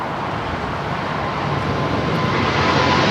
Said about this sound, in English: that 777 freighter now rolling down, 25 left